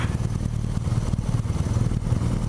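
Engine of a 2017 BMW R nineT Pure motorcycle running steadily at the end of a ride, a close, continuous low throbbing with a faint mechanical clatter and no voices.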